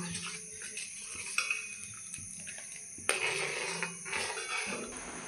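Hot, thickened milk stirred in a pot with a utensil, soft scraping and clinking against the metal in a quiet kitchen, with a sharper knock around the middle and steady low stirring throughout.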